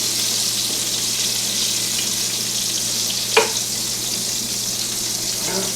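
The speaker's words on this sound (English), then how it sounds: "Alright, we'll let them finish browning. Right, those meatballs are brown as they're going to need to get." Meatballs brown in hot oil in a frying pan, giving a loud, constant sizzle close by with one brief scrape of a utensil partway through and no talk.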